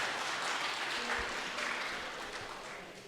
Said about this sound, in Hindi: एक मरतबा जोरदार तालियां बजाएं